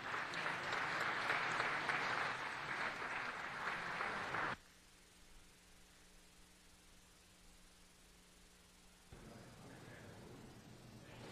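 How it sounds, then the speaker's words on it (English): Applause at a Los Angeles City Council meeting, a loud burst of clapping from the chamber for about four seconds, then a quiet room with hum before a fainter patter resumes. "Let's give them a round of applause."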